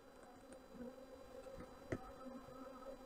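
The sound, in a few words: honey bees in a beehive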